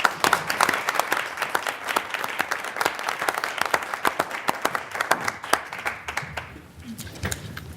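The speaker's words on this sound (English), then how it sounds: "If we can just give them all one more round of applause for all their hard work." A room of people applauding at a school board meeting, dense, continuous clapping that stays strong for several seconds and then thins out toward the end.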